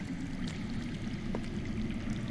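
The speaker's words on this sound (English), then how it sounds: "I hear water. From underground." Underground water flows in a Game of Thrones adventure game, a soft steady rushing and trickling stream heard alone and at a distance, with a faint splash midway.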